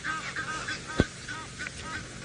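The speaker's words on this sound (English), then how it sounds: "You can even hear the Egyptian geese making noise in the background." Birds chatter and call in an outdoor safari setting, with one short, sharp Egyptian goose honk standing out briefly against the steady background.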